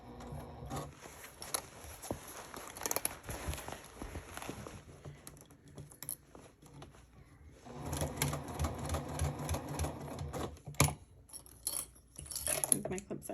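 A sewing machine stitches along a curved seam in quiet, intermittent bursts of whirring, pausing briefly as the fabric is pivoted before sewing resumes.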